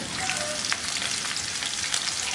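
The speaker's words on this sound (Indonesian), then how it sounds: "Kita akan gongsong terlebih dahulu atau kita tumis terlebih dahulu bawang merah dan juga bawang putihnya sampai nanti wangi." Shallots and garlic sauté in hot oil in a wok with a steady, dense sizzle that stays close and even throughout, with no speech.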